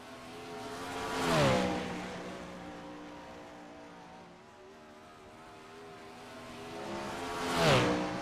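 Sprint car engines in a World of Outlaws racing game at Port Royal, two passes swelling and fading with a rising then falling pitch, moderately distant, with a quieter engine drone in between and no talk.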